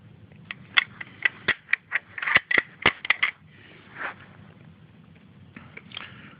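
Marlin 336XLR lever-action rifle in .30-30 being cycled, its lever hard at the end of travel: a rapid run of sharp metallic clicks and clacks up close, then a softer scrape and a few faint clicks.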